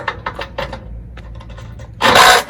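A spanner is used on a steel prop with a 19mm socket. A few quick, close metallic ticks and clicks come first, then a brief, louder grinding rasp near the end.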